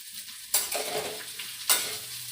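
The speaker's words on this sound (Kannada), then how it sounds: "ನೋಡಿ, ಫ್ರೈ ಮಾಡ್ತಾಯಿದ್ದೀನಿ." Food sizzles and fries in a pan at home, with two sharp bursts of sizzling as it is stirred or added, settling into a steady crackle in between; no talking.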